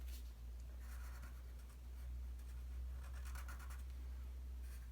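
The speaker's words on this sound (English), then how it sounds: "I'm going to use my Sharpie to go over my pencil lines." A Sharpie marker drawn over pencil lines on paper, giving soft, close scratchy strokes in two or three short bursts over a low steady background hum.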